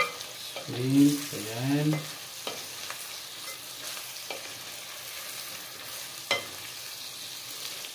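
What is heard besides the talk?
stirring garlic buttered shrimp in a pan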